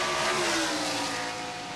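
NASCAR Cup Series race cars roar past at full speed on the final lap of a 1980s race. The engine noise is loud and steady, a continuous wide-band roar with no pause.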